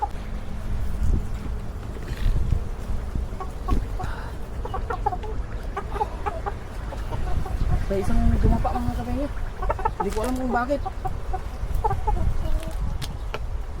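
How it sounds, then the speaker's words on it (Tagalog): Chickens cluck and murmur nearby, one of them collapsed and lying down, while a person talks over them, with outdoor background noise throughout. "Anong nangyari dyan sa manok ko?"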